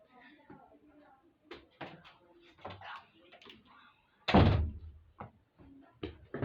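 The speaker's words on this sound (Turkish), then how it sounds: "kapıyı kapattım geldim" A door in a home shuts with a single loud thunk partway through, set between stretches of casual talk.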